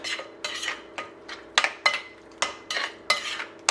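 A spoon mixes murtani, a spicy roasted vegetable choka, with chopped shado beni in a bowl, making a run of sharp, regular clinks and scrapes about every half second, close and clear with no talk.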